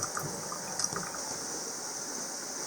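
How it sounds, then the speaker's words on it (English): Water drains steadily from a sink after the plug is pulled, a soft continuous trickling and gurgling rush, close by and fairly quiet, with no talking. "just simply pull it up and it drains away the water"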